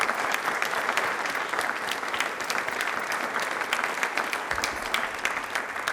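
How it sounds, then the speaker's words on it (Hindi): A studio audience at a televised Rajasthan quiz show breaks into sustained applause, a dense, steady wash of many hands clapping at even loudness for several seconds with no voices over it. "एक बार तालियां प्लीज इसके लिए जोरदार वाली होनी चाहिए"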